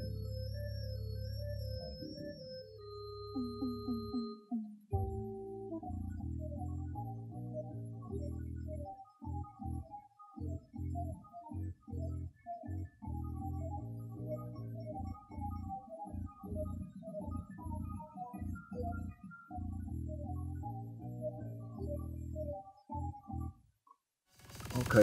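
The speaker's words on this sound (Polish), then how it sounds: "Mam nadzieję, że dźwięk z samej gry słyszycie." Amiga 1200 game soundtrack captured over HDMI through a WarpedVision scandoubler: a chiptune-style melody with a steady bass line and rapid rhythmic notes, fairly quiet and continuous, cutting off near the end.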